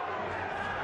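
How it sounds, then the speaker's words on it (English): Boxing crowd at the Acelino Freitas versus Zahir Raheem fight, a steady wash of cheering that is fairly faint and distant and lasts under a second, with no talk over it. "Cheering"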